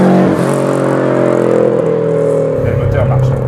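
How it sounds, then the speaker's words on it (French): A turbocharged Subaru Impreza GT engine runs steadily with a strong low hum and whirring, rising slightly near the end, close and continuous. "Et le moteur marche."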